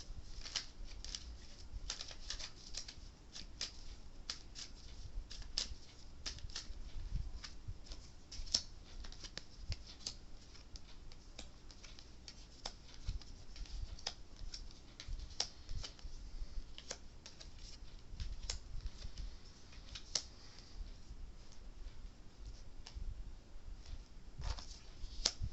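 Moonology Oracle deck cards being shuffled again and again, a steady run of soft papery riffles and snaps going on for the whole stretch, close by and fairly quiet.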